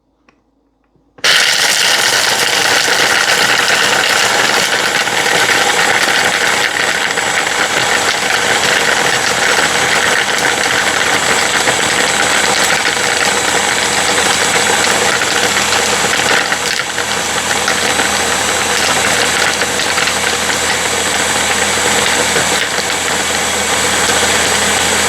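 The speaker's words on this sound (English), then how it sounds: "ice goes in the blender" A blender crushing ice for a mocha frappe, a loud continuous grinding roar starting abruptly and running steadily and close with no talk.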